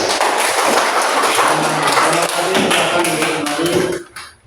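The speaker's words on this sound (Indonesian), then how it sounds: "Silakan tepuk tangan dulu." A classroom of children applauding together, dense overlapping claps that stay loud and busy for about four seconds before cutting off abruptly.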